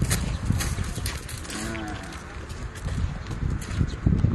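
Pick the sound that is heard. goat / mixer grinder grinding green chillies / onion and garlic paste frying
goat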